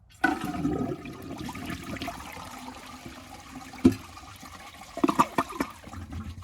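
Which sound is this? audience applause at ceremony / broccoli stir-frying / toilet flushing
toilet flushing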